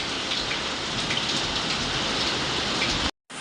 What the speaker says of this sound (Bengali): অবশেষে বৃষ্টি নেমে এলো